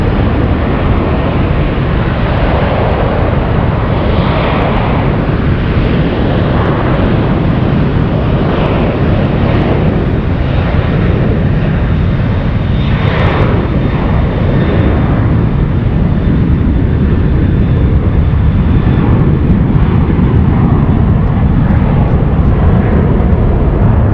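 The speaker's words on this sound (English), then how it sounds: "We have 777 cargo powered by GE90s departing on the ones" A Boeing 777 cargo jet powered by GE90 engines departs from San Francisco airport, a loud, dense, unbroken engine roar holding steady for over twenty seconds with no voices.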